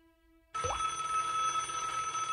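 A telephone in the Broken Sword: Shadow of the Templars adventure game rings loudly and steadily after a brief quiet start, a continuous electronic bell tone that carries on to the end.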